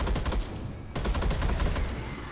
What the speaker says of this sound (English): There's a turret shooting us, mate.